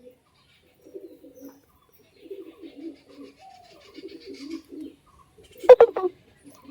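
Madras pigeons coo in soft, low, throaty bursts repeated at a close distance, with a brief sharp flutter or clatter near the end in an otherwise quiet space.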